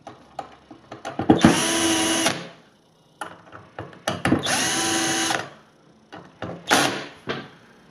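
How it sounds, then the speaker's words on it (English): A power drill drives screws down during installation of a Lowrance Hook2 5 fish finder, three bursts of whirring, each about a second long, separated by clicks and handling noises, close and loud. "you would take those screws and just tighten them down"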